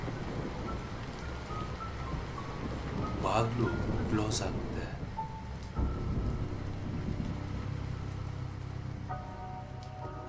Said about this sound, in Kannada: ಅಷ್ಟರಲ್ಲಿ ಹೊರಗಡೆ ಸಡನ್ ಆಗಿ ಜೋರಾಗಿ ಮಳೆ ಸುರಿಯೋಕೆ ಸ್ಟಾರ್ಟ್ ಆಗುತ್ತೆ.